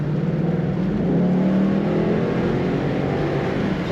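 A 2012 Ford Mustang GT Premium convertible accelerating, its engine a steady, close, loud drone that rises slightly in pitch as it pulls, with road and wind noise beneath and no talking.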